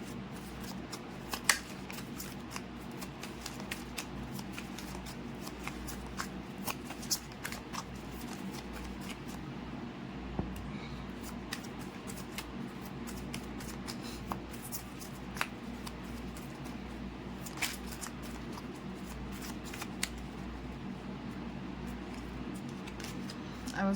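Tarot cards being shuffled by hand, soft repeated riffling and flicks of the deck over a quiet steady background, with scattered sharper card taps.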